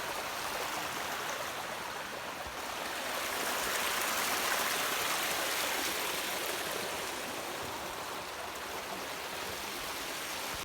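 A waterfall below a mountain hermitage in the Aragonese Pyrenees pours in a steady, broad rush of falling water, loud and continuous throughout with no voices over it.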